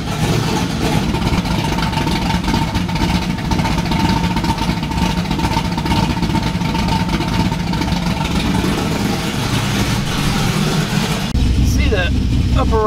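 A Chevrolet Camaro Z28 engine settles into a steady, continuous idle after starting, with a low rumble that holds evenly close by throughout.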